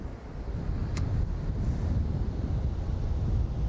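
Steady wind blowing at a beach inlet with surf nearby, a loud continuous low roar buffeting the microphone throughout, no voices.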